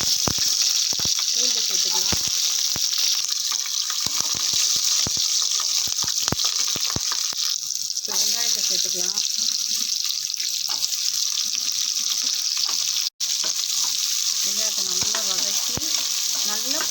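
Green chillies and fennel seeds fry in hot oil for an intestine gravy, making a loud, constant sizzle close by with scattered crackles and scraping stir strokes throughout and one sudden dropout in the middle.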